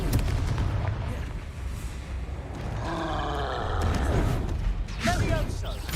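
Booming blasts from the Confringo spell in Hogwarts Legacy burst out in quick succession, loud and close, with grunting vocal effects mixed among the explosions.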